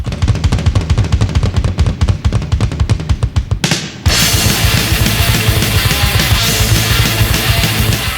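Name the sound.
thrash metal song by a German band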